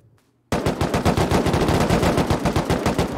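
A sustained automatic burst of gunfire in the survival game Rust, rapid evenly spaced shots that start abruptly after a brief quiet moment and continue loud and close without pause.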